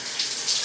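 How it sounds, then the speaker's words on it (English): A hotel shower at the Mercure in Paignton runs with a steady, close hiss of spraying water, even and unbroken throughout. "let's try the shower out"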